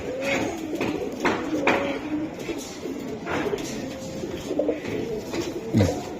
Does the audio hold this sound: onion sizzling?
no